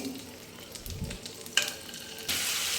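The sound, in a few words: chicken tandoori frying in a pan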